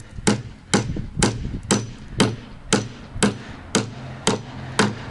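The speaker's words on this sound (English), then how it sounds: "You're supposed to hold the hammer at the end like this." A hammer strikes an industrial cart table in eleven sharp, evenly spaced metallic blows about half a second apart, close and loud, each ringing briefly before the next.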